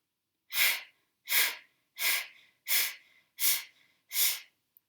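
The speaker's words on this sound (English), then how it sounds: "and then through the nose or the mouth, just breathing everything out." Six slow, deep exhalations through the nose or mouth follow one another at an even rhythm, each a soft airy whoosh, close and clear with brief silence between them.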